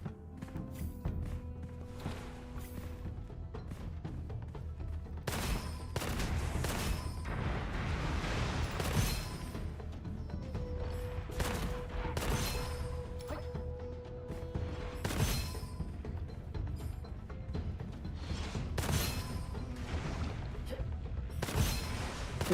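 Explosive-bullet gunfire in the shooter game Gunfire Reborn: scattered, fairly quiet bursts of sharp shots and muffled booming impacts, spaced irregularly over a low background of game noise.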